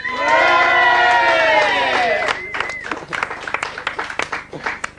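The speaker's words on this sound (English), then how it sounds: "a big round of applause for the two of you there" A studio audience at a Muse interview bursts into loud cheering and applause, a dense roar that settles into scattered, rhythmic clapping toward the end.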